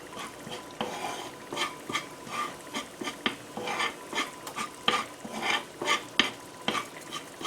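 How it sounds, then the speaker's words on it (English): A tomato gravy roux cooking in oil is stirred repeatedly with a utensil scraping the pan, rhythmic strokes over a soft sizzle, close by with no talking. "So we're going to give that a stir."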